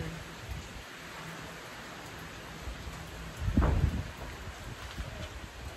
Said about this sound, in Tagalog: Tignan nyo na naman yung panahon dito. Umuulan na naman.